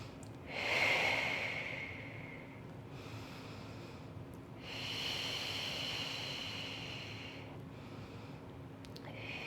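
Slow breaths taken while holding a seated glute stretch with the legs pulled in, two long airy exhales several seconds apart, close and soft over a steady background hiss, with no speech.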